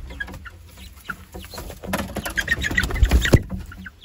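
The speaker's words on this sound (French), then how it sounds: "Alors, les petits poussins." Small chicks in an outdoor pen give high peeping calls scattered throughout, close by, over rustling, handling noise and a few low thumps.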